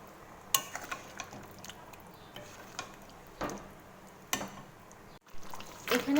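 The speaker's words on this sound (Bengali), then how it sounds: "এবার এটাকে আমি ভালোভাবে নাড়িয়ে নেব।" Chicken curry with cashews and peanuts, cooked without water, being stirred in a pan: soft scraping and clinking knocks of a spoon against the pan, irregular and fairly quiet, with a few sharper clatters.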